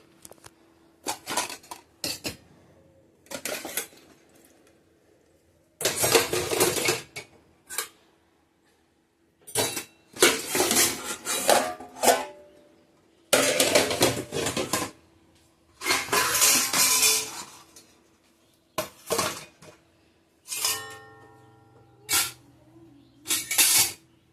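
Dishes, pots and cutlery being washed by hand in a home kitchen, with repeated bursts of clattering metal and running water broken by short pauses, close and fairly loud.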